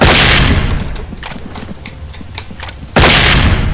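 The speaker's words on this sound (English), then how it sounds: "Drop a flashbang." A flashbang grenade goes off in the SWAT 4 multiplayer video game, a loud sharp blast at the start, a stretch of scattered game noise and small pops, then another loud burst near the end, with no talking.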